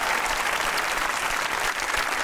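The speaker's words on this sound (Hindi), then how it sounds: "ज़्यादा हमें तालियां बजाइए इनके लिए" Sustained studio audience applause at a Pakistani comedy talk show, steady dense clapping filling the whole stretch at an even loudness.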